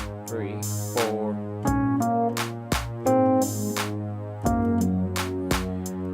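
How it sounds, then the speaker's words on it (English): A piano plays a pop song with both hands, steady bass notes under a repeating right-hand melody in an even beat, close and alone. "Let me go ahead and play this with 2 hands so you have it in context."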